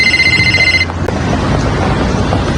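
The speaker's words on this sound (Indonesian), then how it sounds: "seketika heran saat mendapat telepon dari nomor tak dikenal" A telephone rings with a bright electronic tone for under a second as an incoming call arrives, then stops and leaves a noisy, rumbling background.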